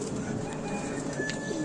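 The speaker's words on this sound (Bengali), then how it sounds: "তো দেখে নিন পায়রাগুলো।" Madras highflyer pigeons kept for sale at a pigeon house in Sodepur, Kolkata, coo steadily among other bird calls, with a constant murmur of cooing filling the background.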